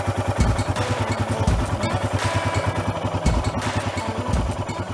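A motorbike engine runs steadily up close during a riding lesson, with a rapid, even low thumping pulse and light mechanical clatter that holds fairly constant throughout, rising slightly as a little throttle is applied.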